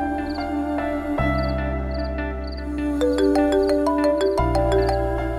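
A phone ringtone plays a repeating bright electronic melody with steady beeping notes over a sustained tone, loud and close, with no talking over it.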